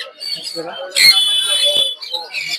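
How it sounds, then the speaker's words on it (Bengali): Caged birds at the Mirpur 1 bird market squawk in a loud burst of harsh, shrill calls amid busy market chatter, with budgerigars, cockatiels and white parakeets among the stock. "প্রচুর পরিমাণে পাখি পাবেন মিরপুরে একটা পাখিরহাটে"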